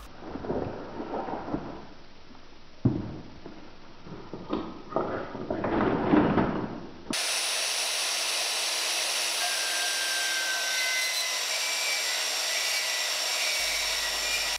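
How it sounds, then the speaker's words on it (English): A bandsaw cuts off a steel locomotive crankshaft eccentric clamped in a vise against an angle plate: a steady, fairly loud grinding hiss with fluctuating bursts, shifting into a continuous high-pitched saw whine in the second half, with no talk. "I didn't fancy trying to part this off in the lathe, so I'm going to do it on the bandsaw."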